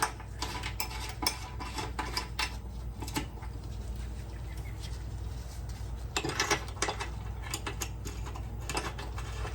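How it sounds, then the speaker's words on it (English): A 5mm Allen wrench tightens bolts on a Toyota 4Runner during an oil change, making a run of close, light metallic clicks and scrapes in irregular bursts with no talking. "5mm Allen wrench will get these tightened appropriately"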